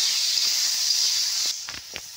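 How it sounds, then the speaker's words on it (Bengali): Chicken pieces fry in a little salted oil, giving a bright, steady hiss that drops off after about a second and a half, followed by a few soft clicks and pops. "অল্প করে তেলের মধ্যে আমি নুন দিয়ে দিয়েছি, দিয়ে চিকেনটা হালকা ভেজে তুলে নেবো।"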